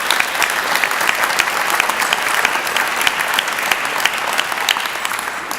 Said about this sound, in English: friend of the temple, Joe Mehevik, who really deserves a round of applause from everyone.